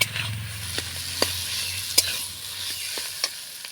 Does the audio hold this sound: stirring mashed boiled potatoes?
yes